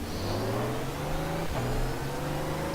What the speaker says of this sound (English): Just gonna have to drive the car right here